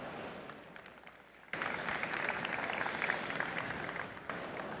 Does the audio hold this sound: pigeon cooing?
no